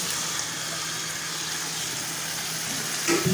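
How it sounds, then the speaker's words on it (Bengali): Marinated chicken dropped into fried spice paste in a hot pan gives a steady loud sizzle of frying oil, continuous hiss throughout with a brief stir near the end. "এবারে ম্যারিনেট করে রাখা চিকেনটা দিয়ে দেবো।"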